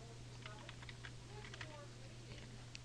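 Quiet keyboard typing of a username in lowercase, scattered soft key clicks at an uneven pace over a steady low hum, with no talking.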